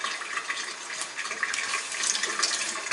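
Water runs from a kitchen tap into a sink, a steady, even hiss of flowing water with no breaks and no talking.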